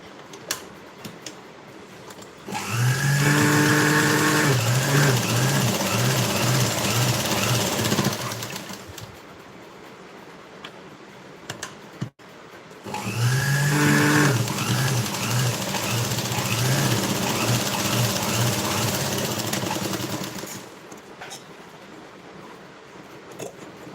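A sewing machine runs a pressing stitch along a strip of a princess-cut blouse in two loud, steady bursts of rapid mechanical stitching, separated by a brief pause, with quieter handling noise before and after.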